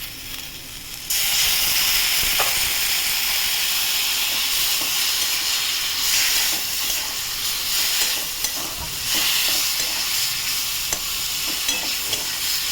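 Water hits ground cumin, turmeric and other spices frying in a pan, and they burst into a loud, steady sizzle and hiss. Faint stirring scrapes run under it, with no talk.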